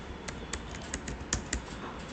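Quiet, irregular taps of a computer keyboard being typed on while entering text into a PowerPoint slide, with soft keystrokes scattered alone over a faint background hiss and no voices.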